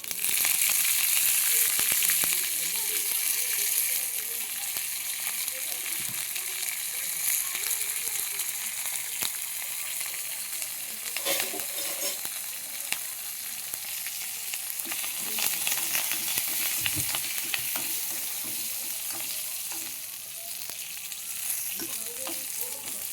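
Mustard seeds, dried red chillies and curry leaves frying in hot oil for a cucumber curry, a steady close sizzle with sputtering pops throughout, and faint talk in the background.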